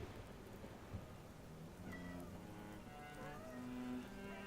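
A cat meows in the Lovecraftian cult-management game The Shrouded Isle, a few short tonal cries midway over a steady bed of rain and low thunder rumble, with no talking.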